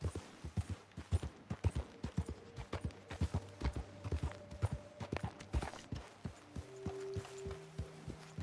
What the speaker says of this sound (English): Maybe it's because I'm on a horse.